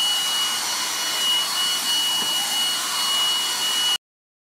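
Set to strong power, a Redroad V17 cordless vacuum cleaner gives a loud, steady, high-pitched rushing whine, like a small jet, running close and unbroken before stopping abruptly.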